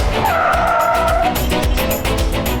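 A car skids to a sudden stop with a loud tire squeal that rises and slides across most of the brief moment, close and dominant over road noise.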